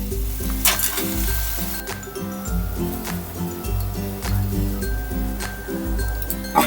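A semolina and oats mixture frying in a pan after black pepper is added, a close sizzle with repeated stirring scrapes over a rhythmic musical backing.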